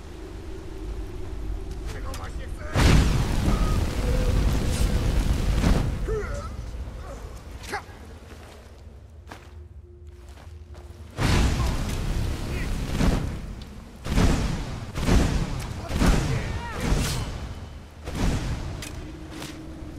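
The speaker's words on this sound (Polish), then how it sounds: "Co to było? Kurwa, jakaś ściana ognia." Explosions and a roaring wall of fire in the video game Skyrim Dawnguard, loud rumbling bursts that swell and fade, with several sharp blasts in the second half and people talking over the game.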